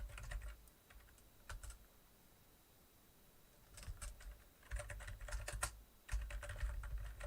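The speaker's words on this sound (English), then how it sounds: "apologies that the keyboard sounds like a thunderstorm" Clattering typing on a computer keyboard during an online Skytear Clash match: close, heavy key clicks in irregular bursts separated by a short quiet pause, over faint fan-like background noise.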